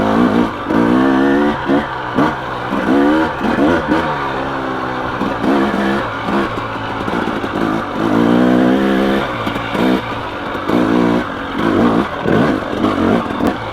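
A 2017 KTM 300 XC dirt bike lugs up a steep, technical hill in second gear, its engine loud and close, surging and easing as the throttle goes on and off.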